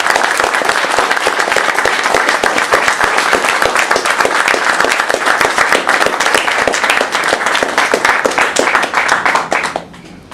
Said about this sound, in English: give a warm round of applause to welcome Jonathan back